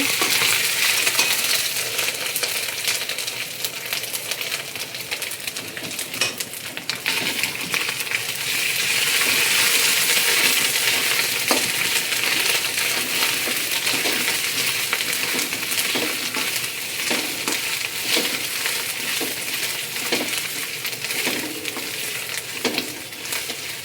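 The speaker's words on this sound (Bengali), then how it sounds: "এখন আদা বাটা, গোটা জিরেটা একটু ভেজে নিব।" Ginger paste and whole cumin seeds frying in a pan, a loud continuous close sizzle with scattered small crackles and metallic scrapes throughout, with no voices.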